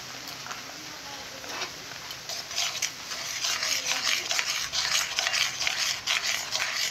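A spoon stirs a carrot and milk dessert in a pan, scraping and swishing steadily and growing louder and faster partway through, close by over a faint background hum.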